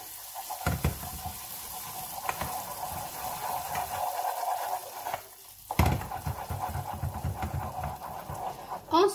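Condensed milk caramel being stirred in a pan over lowered heat, a soft continuous sizzle with scraping strokes of the spoon, faint and close, with brief knocks.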